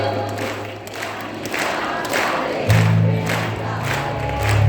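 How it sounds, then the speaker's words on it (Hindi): An audience at a Shri Shyam sankirtan devotional gathering in Warud claps in loose rhythmic bursts over a low sustained drone, the crowd noise swelling slightly toward the end. "बाबा के लिए आए हैं, एक बार ताली भी बजनी चाहिए"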